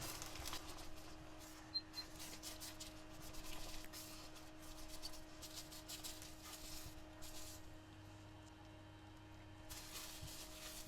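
Scrambled eggs with cheese and salami being stirred and mixed, a steady soft scraping and rubbing that runs throughout, faint and close, with a low hum in the background.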